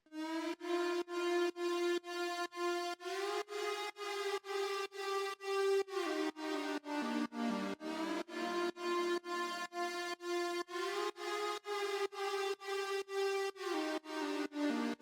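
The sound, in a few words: synth melody with saw, flanger and delay in FL Studio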